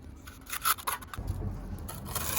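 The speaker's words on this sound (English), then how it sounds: "So then I just pass over it again with the trowel." A steel trowel passes over a fresh concrete patch, giving soft scraping and rubbing strokes, close and fairly quiet, that grow steadier and denser toward the end.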